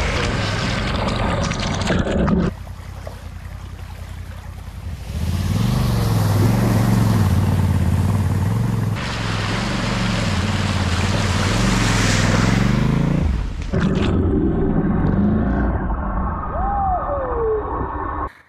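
A motorcycle on a Sardinia tour splashes through a large puddle, engine droning under a loud rush of churning water and spray that swells midway and then falls back, with a rider's voice at moments.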